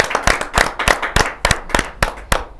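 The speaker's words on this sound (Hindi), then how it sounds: "जोरदार ताली के साथ" A small audience at a kavi sammelan (Hindi poetry gathering) claps in a short burst of separate, uneven handclaps, close and distinct rather than a dense roar.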